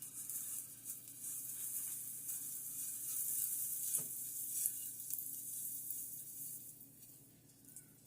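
Butter melts in a crepe pan on a pancake maker, giving a soft, steady sizzling hiss that runs evenly throughout, quiet and close, with no one speaking.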